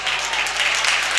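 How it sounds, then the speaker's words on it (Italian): Applause from spectators at a basketball game between Basket Scauri and Luiss Roma, a steady, dense clapping that fills the whole moment at moderate volume, with no voices standing out. "qui applausi anche per Marcon"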